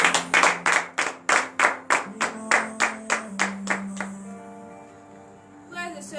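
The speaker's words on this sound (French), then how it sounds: "nous allons nous lever sur nos pieds et donner de vives acclamations à l'Éternel pour cette journée." A church congregation at a Saturday morning prayer service in Benin claps in a steady rhythm, about a dozen sharp claps with a sustained voice or tone underneath, then the clapping stops and only faint sound remains.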